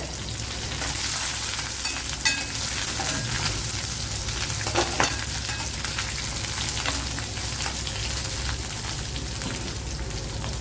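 Crushed ginger, two or three dried red chilies and chopped green chilies frying in hot oil for a carrot dish, with a steady, loud sizzle and occasional stirring clicks throughout.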